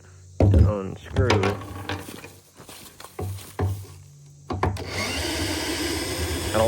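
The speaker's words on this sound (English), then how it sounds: "need a drill though" A power drill whirs steadily near the end, used to unscrew a part of a stump-mounted corn feeder outdoors, after someone talks briefly and some clunking handling noises.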